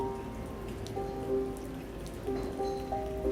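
Steady rain falling in the video game South of the Circle, a soft, continuous patter beneath a sustained tonal music bed, with no talk.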